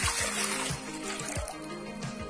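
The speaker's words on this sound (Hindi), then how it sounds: "तो चलिए इसमें मैं पानी ले लेती हूँ" Water is poured into a metal cooking pot for making rice, a steady close splashing trickle with a few sloshing pulses across a couple of seconds.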